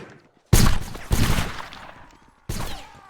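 Rifle volleys from the 95th Rifles in Holdfast, three loud sharp bursts of several overlapping shots with decaying echo and brief gaps between them.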